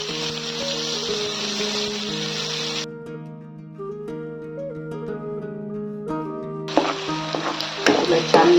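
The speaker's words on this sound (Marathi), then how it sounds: "छान लाल होईपर्यंत परतून घ्यायची आपल्याला, गोल्डन ब्राऊन कलर येपर्यंत" Onion, garlic and tomato paste frying with cumin and mustard seeds in a pan, a steady hissing sizzle that drops away in the middle and returns, with tuneful background music playing throughout.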